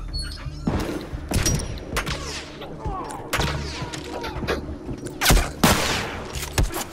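In The Last of Us Remastered, scattered gunshots pop in short bursts, some sharp and close, others more distant, over a low game rumble with occasional faint voices.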